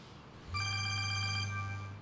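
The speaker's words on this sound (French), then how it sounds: "C'est ton téléphone, tu ne réponds pas?" A mobile phone rings nearby, a single bright electronic ringtone with a low buzzing tone underneath, sounding steadily for about a second and a half before fading slightly.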